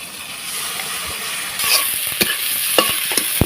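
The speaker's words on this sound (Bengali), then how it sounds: "দেখো মশলাটা ভালোভাবে কষিয়ে নিচ্ছি" A ginger, cumin, green chili and turmeric spice paste stir-fried in oil, with a constant close sizzle broken by sharp scraping strokes of a spatula that grow more frequent toward the end.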